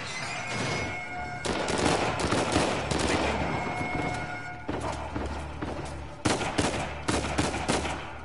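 Rapid machine gun fire in a video game crackles in dense bursts with short gaps between volleys, loud and close, and other action sounds churn underneath.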